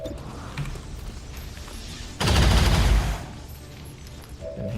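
In XCOM 2, a burst of gunfire hits a mech, one dense, loud volley lasting under a second that rises sharply over quiet game ambience and then fades.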